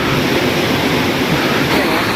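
River stream on the way to Curug Cisadane waterfall near Bogor, heard as a loud, steady rush of flowing water that fills the whole moment without a break.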